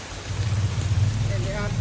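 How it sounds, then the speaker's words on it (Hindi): Heavy rain pours steadily in a domestic setting, a dense close hiss and low rumble of water striking surfaces, with brief voices murmuring underneath. "भारी बारिश है"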